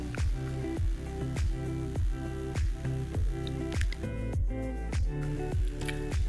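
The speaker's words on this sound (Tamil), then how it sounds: "கைட்டையே பிசைஞ்சு கொடுங்க" Hands knead a roasted gram and ghee peda dough, giving soft wet squishing pushes in a steady repeating rhythm, close and fairly quiet.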